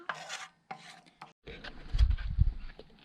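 Spoon scraping and stirring biscuit gravy in a camp cooking pot, short rasping strokes close up, ending in a few louder low knocks against the pot.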